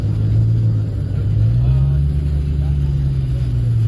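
A BMW M3 engine revs at a car meet in Dallas, Texas, a loud deep rumble that swells and rises in pitch midway, with a person talking over it.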